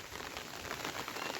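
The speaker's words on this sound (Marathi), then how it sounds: "अजून पण पाऊस येतोयच मित्रांनो" Rain falls on trees in a village during the monsoon, a steady, even hiss that lasts throughout with no voices.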